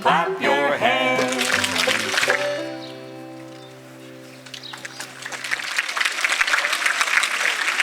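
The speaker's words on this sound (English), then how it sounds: "Clap your hands." Children clap their hands at a May Day celebration, a loud burst of applause under a singing voice and music, fading briefly before a fresh round of scattered clapping builds again.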